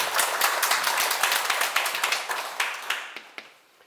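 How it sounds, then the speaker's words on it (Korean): A lecture audience claps together in a loud burst of many hands that gradually thins and fades out, leaving a few scattered final claps. "좋은 질문인데 박수 한번 치세요"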